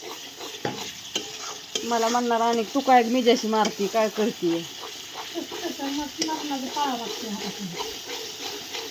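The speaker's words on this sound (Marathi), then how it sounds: "चला आता फोडणी बसली छान" Spices for a Marathi phodni crackle and hiss in hot oil, a steady close sizzle running underneath a woman's animated chatter that dominates the middle of the scene.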